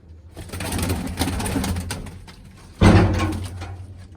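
Pigeons kept in a loft coo in low, soft murmurs at close range, with a louder thump or bump near the middle and faint movement noise around them.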